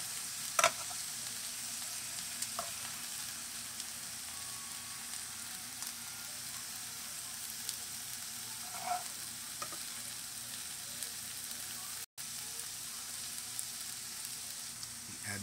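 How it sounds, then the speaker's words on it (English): Tomato sauce simmers down to a paste in a pan, a soft continuous sizzle heard close, with occasional scrapes and clinks of a stirring utensil. "Let those tomatoes cook down into like a paste."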